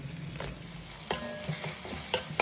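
A utensil scrapes and taps against a pan in irregular strokes as carrots and tomatoes are stirred into vermicelli upma, over a faint steady sizzle of frying.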